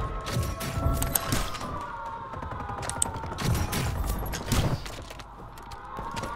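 Sniper shots and gunfire in Call of Duty Modern Warfare III, heard as several sharp cracks and thuds over a busy bed of game noise, with mechanical clicks and creaks scattered through.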